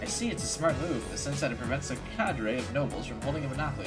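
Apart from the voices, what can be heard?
No everyday noise stands out behind the speech.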